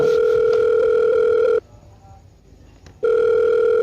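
A steady telephone dial tone hums, cuts out for about a second and a half into near silence with a faint click, then resumes at the same level.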